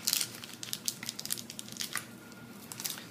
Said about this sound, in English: I am going to grab from the little plastic bag that there was 2 of these things in here.